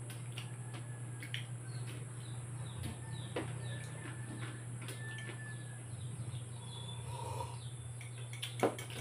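Chickens cluck and birds chirp intermittently over a constant low hum, with sporadic short calls scattered through a quiet outdoor scene.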